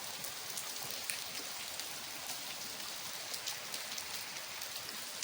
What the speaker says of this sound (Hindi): लगातार ही बारिश हो रही है, बिल्कुल भी बंद नहीं हो रही है।